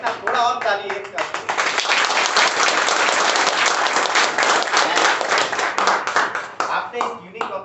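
A hall audience applauds steadily, many hands clapping in a dense, sustained burst that swells and holds, with some voices mixed faintly underneath.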